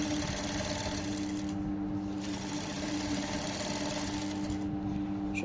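Domestic sewing machine stitching fabric, finishing gold soutache trim on a garment, runs in a steady continuous whir with a fast mechanical rhythm, close and fairly loud, with no voices over it.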